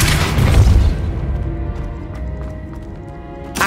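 A Depulso spell blast in the game Hogwarts Legacy: one heavy, low boom that swells briefly and fades into a lingering rumble with faint ringing tones, loud and close.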